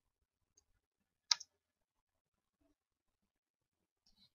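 A single crisp computer mouse click sounds close and isolated in near silence while working in Office 365, followed by a couple of faint tiny ticks.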